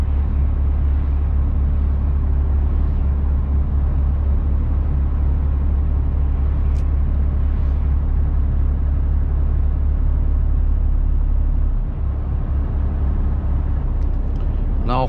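Car cruising along a road toward Stuttgart in daylight with headlights on, a steady low engine and tire rumble filling the cabin throughout, loud and continuous, with a brief dip near the end.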